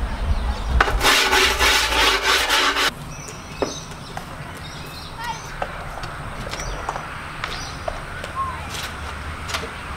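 A skate tool rasps along the edges of skateboard grip tape in a loud, close scraping burst, followed by quieter scattered clicks and rustles of handling.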